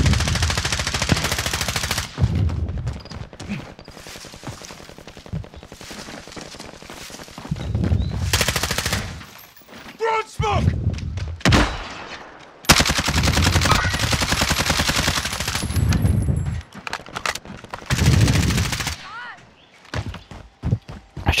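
Bursts of gunfire in the online shooter Warzone ring out in several loud, dense volleys separated by short lulls, with a few sharp single cracks and quieter game noise between them.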